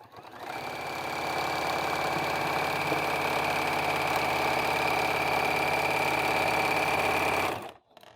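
A sewing machine running steadily at speed as it stitches binding onto the edge of a finished quilt, a close, continuous whirring hum that starts up, holds for about seven seconds, then stops abruptly.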